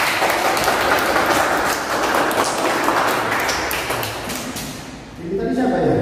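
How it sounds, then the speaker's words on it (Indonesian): Schoolchildren in a classroom clap after a number-guessing magic trick, a loud cluster of claps that thins and dips near the end before picking up again, with voices mixed in. "Tepuk tangan ya"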